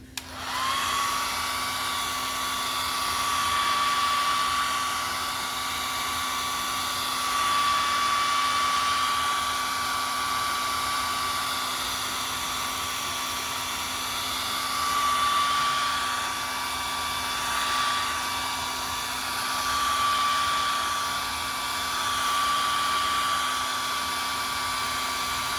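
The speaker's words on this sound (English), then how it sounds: "I'm going to go ahead and dry it off a little bit." Hair dryer drying a brush, a loud, steady close-up whine and rushing air blowing continuously, with gentle swells in level as it moves, and no talking.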